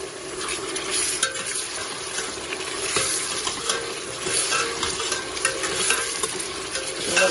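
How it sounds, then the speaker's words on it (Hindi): Garlic ginger paste frying in hot oil for beef haleem, a steady close sizzle with scraping stirs throughout and no talk. "थोड़ा सा भूनेंगे इसको।"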